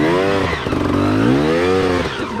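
A 250 motorcycle revs hard as the clutch is dumped and the throttle held wide open, its engine note rising, dipping briefly and climbing again, loud and close.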